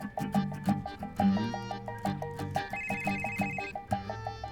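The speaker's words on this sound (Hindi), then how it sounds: "वरुण फोन मत कर यार" A mobile phone rings with a repeating melodic electronic ringtone, loud and steady throughout, with a brief higher tone partway through and no talk over it.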